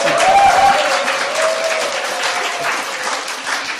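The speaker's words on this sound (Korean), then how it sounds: "다른 데는 박수 엄청 크게 쳐주고 함성도 엄청" A church congregation at a Sunday sermon breaks into dense, sustained applause, close and loud, with a faint raised voice near the start, easing slightly over a few seconds.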